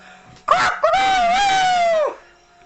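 A human voice imitates a rooster crow: a short rising yelp, then one long, strained, wavering call held for over a second, close and loud.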